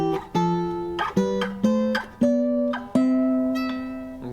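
Clean guitar sounding a root with a major tenth above it, a sequence of about eight plucked two-note dyads stepping through positions, each ringing and decaying before the next, close and alone.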